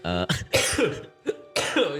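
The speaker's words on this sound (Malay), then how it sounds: "Aku dah terbatuk sial" A few sharp coughs and throat-clearing bursts, close and fairly loud, separated by short pauses.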